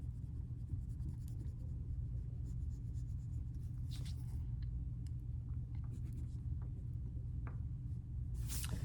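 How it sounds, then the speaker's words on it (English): Back end of a crayon rubbing on paper while colouring in small spaces of a haunted house drawing for kids, soft scratchy strokes in short bursts over a low steady background rumble, faint and close. "now I'm going to use the back end of the crayon, which sometimes is easier to do when coloring in small spaces"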